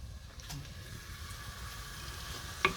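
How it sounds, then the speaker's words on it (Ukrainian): Onion fries quietly in a pan, a faint steady sizzle with a soft clink near the end, no talking. "Спочатку цибульку так підсмажу"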